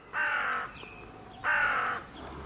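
Two loud, close crow caws, each lasting about half a second and separated by a short pause, sounding near a farm with chickens and a barn; no one speaks.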